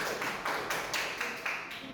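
A small group of students in an Indonesian classroom claps a few slow, rhythmic beats together, the claps fairly close and fading toward the end.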